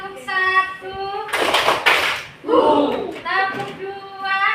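Classroom clapping game with students standing: a dense burst of many hands clapping together sits between stretches of a voice chanting the rhythm, followed by a shorter group sound and more chanting.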